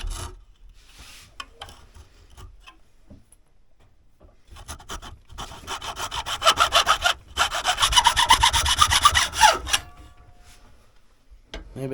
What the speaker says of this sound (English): I was thinking, since this wood is so hard, a hacksaw would be the thing